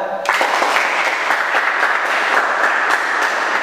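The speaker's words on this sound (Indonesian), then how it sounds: "Tepuk tangan untuk kita semua ya." Students applaud together in a classroom after a teaching performance assessment, a steady, dense burst of clapping that starts abruptly and holds at full strength with no talking over it.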